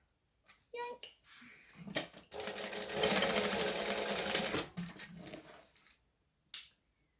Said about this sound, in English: So I'm going to stitch and back stitch.